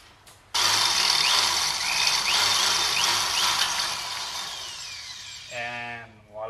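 A power drill whines loudly and continuously while drilling out a brake rotor bolt on a 2010 Honda Accord V6 during a big brake kit install, ending with a few short revving bursts as the drill winds down.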